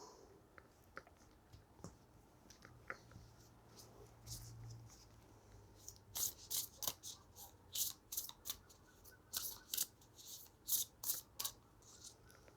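Oracle cards being shuffled by hand during a tarot reading, a quiet run of crisp riffling bursts in a steady rhythm after some soft handling sounds, with a brief low hum earlier.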